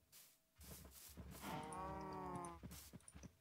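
A Minecraft cow gives a long, drawn-out moo with a wavering tone, moderately close, among soft thumping game footsteps and other game sounds, with no speech.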